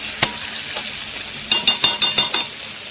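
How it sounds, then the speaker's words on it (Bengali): Solidified ghee goes into a hot pan and is stirred with a metal spoon, a soft sizzle beneath a few sharp scrapes and clinks, then a quick run of five rhythmic stirring strokes close by. "দেখো এবার এতে ঘি দিয়ে দিচ্ছি"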